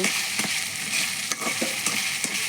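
Food fries in a pan with a loud, close, continuous sizzle, broken by several brief stirring scrapes and clatters, with no talking.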